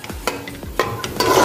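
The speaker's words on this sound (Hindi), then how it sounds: "इसको अच्छी तरह घी के अंदर इसको भूनेंगे हम 1 से 2 मिनट के लिए।" Masala stirred and fried in ghee for a bone marrow salan, with close clattering spoon strokes against the pot over a continuous sizzle, a few distinct scrapes in quick succession, no talking.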